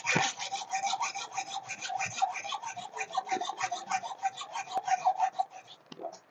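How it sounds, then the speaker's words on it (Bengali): A nut on an electric motor is cut away by hand, giving rapid, rhythmic rasping strokes, close and steady, that stop briefly near the end before a final few scrapes. "তার জন্য আমরা এদিকে নাটটি কেটে নিচ্ছি।"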